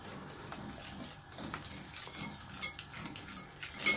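Soft scraping and clinking of a spoon stirring a thick white cottage cheese mixture in a bowl, steady and close, with a few brighter knocks against the side.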